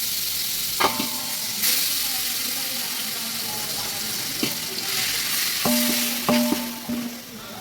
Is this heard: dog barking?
no